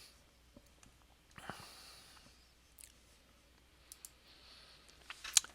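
Mouse clicks on a computer while closing a window, a few sharp isolated clicks spread out over near silence, the loudest one near the end.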